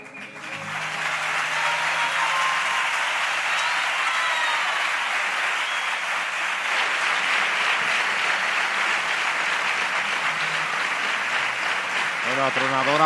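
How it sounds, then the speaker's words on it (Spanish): Thunderous theatre applause for a comparsa's performance at the Alcalá 2024 carnival, rising quickly after a sung ending and holding loud and sustained with crowd voices mixed in. "Atronador aplauso"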